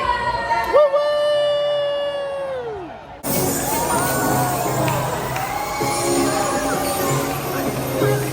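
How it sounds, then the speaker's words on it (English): A loud crowd cheers and shouts together aboard a Disney cruise ship, whoops rising over a dense roar, right after a sustained sung or shouted tone. "Let me hear you cheer."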